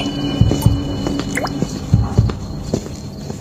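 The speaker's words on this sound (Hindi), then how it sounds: "सिर्फ पानी टपकने की आवाज आ रही थी।" Water drips steadily inside an old fort, loud plinks and drops echoing in a damp, reverberant interior over a constant low hum, with no voices.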